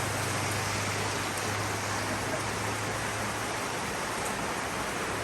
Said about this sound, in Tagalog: Kusog na po ang ulan